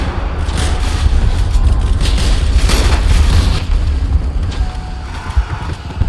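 Incendiary grenade blast in a Roblox World War I shooter, a loud sustained rumbling boom with crackling debris and battlefield noise filling the whole stretch, fading slightly toward the end.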